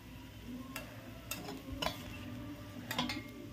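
Spoon strokes stir coriander and other spice powders into a chicken liver fry in the pan, giving a few soft scraping clinks over a faint, steady sizzle.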